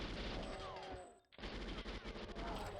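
Sustained rapid automatic fire from an Uzi submachine gun in the GoldenEye shooter game, a dense loud stream of shots with a brief pause midway before firing resumes.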